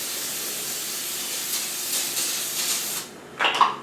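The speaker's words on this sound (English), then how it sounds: "So a little bit of spray oil." A steady hiss of cooking oil spray from a nearly empty can runs for about three seconds, then stops, followed by a brief clatter.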